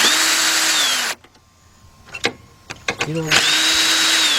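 Power drill driving out 7mm bolts on a 2004 Chrysler PT Cruiser during A/C repair, a loud steady whine in two bursts separated by a pause with brief clicks and a short spoken phrase.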